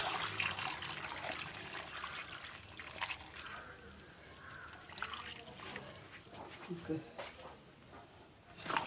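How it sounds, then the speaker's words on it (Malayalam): Water trickles into a cooking pot of green chillies and turmeric for a Kerala puzhukku, pouring softly under a person's speech. "വെള്ളം ഒഴിക്കുക"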